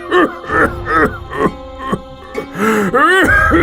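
A man coughs and groans in a rough, hoarse way, several voiced bursts and throaty moans following one another close up, acted by a voice performer.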